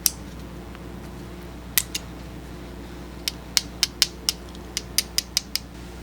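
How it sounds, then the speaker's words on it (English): Compact ANEX or ENGINEER bit ratchet from Japan being handled, giving a few sharp isolated clicks followed by a quick run of about ten distinct ratcheting ticks, close and clear over a quiet background. "Handle threads in there like that, and you've got a little ratchet."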